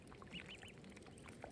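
Ducklings quack and peep in short, soft, high calls, close by and fairly steady across the moment, with a few sharper chirps standing out and no talking.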